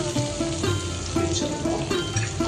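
Chopped shallots sautéing in a pan for chayote kootu, giving a steady close sizzle with faint stirring clicks and no talking.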